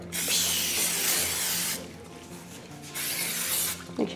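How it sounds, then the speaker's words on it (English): A can of nonstick butter cooking spray hisses onto a pan in two long, close bursts with a short break between them, and a faint clink comes at the end. "And then spray it."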